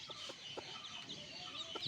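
Newborn backyard chicks peeping and clucking beside their mother hen as they feed, soft repeated calls and chirps over a steady outdoor background.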